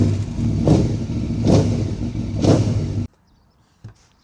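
A Lexus 470 SUV engine revs up in three rising surges with a rough, throaty drone, then cuts off abruptly, followed by near silence and a single faint knock.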